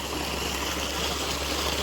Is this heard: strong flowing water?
yes